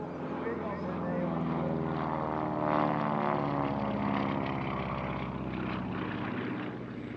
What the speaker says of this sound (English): In comes the soloist, demonstrating to good effect the Beech 18's surprisingly sprightly roll rate.